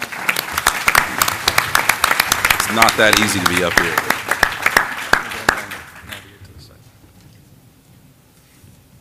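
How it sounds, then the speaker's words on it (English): An audience at an investor feedback forum applauds startups coming on stage with a crowd of sharp, fairly close claps that thin out and stop after about six seconds, while a voice talks over the clapping. "let's just welcome all the startups up at once with a big round of applause"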